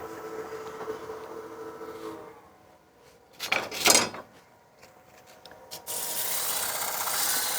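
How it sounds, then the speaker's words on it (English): Sandpaper rubs against a spinning wooden bowl on a lathe at reduced speed, a soft rasping hiss that swells into a louder scraping burst midway, then settles into steady broadband friction noise. "We'll drop our speed down for the sanding."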